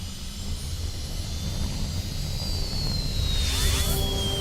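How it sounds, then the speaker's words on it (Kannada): A cartoon rocket engine starting up in the animated space adventure Motu Patlu, a loud continuous roar that builds steadily with a rising whine sweeping overhead. "ಮೊದಲು ರಾಕೆಟ್ ನ ಸ್ಟಾರ್ಟ್ ಮಾಡು."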